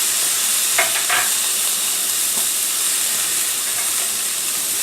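Roast beef searing in a hot pan, a loud continuous sizzle and frying hiss with a few soft clinks near the start, steady and close.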